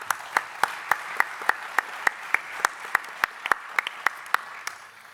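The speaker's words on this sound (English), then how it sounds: "So if you can join me to applaud for this effort." Sparse, evenly spaced hand claps sound at a steady beat in a conference hall during a 2018 EASA high-level drone panel session, crisp and moderately close, with no talk over them.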